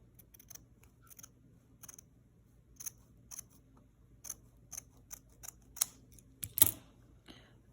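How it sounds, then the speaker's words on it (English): Sharp fabric scissors snipping along a folded seam during hand sewing, a quiet series of separate crisp clicks and cuts spaced irregularly, close and alone in a hushed room. "So what we're going to do is cut along the fold here."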